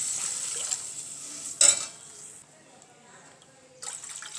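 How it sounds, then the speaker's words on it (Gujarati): Water splashed into a sizzling pan of gram-flour curry: a steady frying hiss, then a short loud splash and a hissing burst that settles to a quieter simmer, close up. "પાણી ઉમેરી દઈશું."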